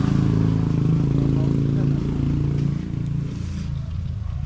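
Steady low engine drone of a motorcycle being ridden, loud and continuous throughout, with a person talking over it.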